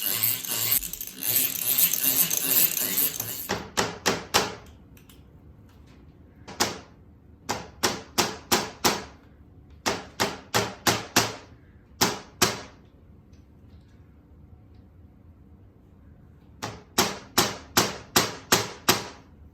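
Sharp, separate hammer strikes drive nails into picture-frame hanging hardware on a handmade wooden frame, landing in quick groups of several blows with pauses between, after a short stretch of louder workshop noise.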